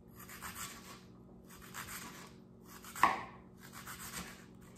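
A knife chops shrimp on a cutting board in four quick rhythmic bursts of close scraping cuts, with one sharper knock midway, fairly quiet.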